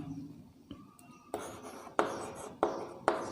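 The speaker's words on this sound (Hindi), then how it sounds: "जैसे मैं एक जोड़ लिख रहा हूँ" Pen or chalk strokes writing out a decimal addition sum, a series of distinct scratchy marks with sharp onsets every half second or so, fairly quiet and with no speech.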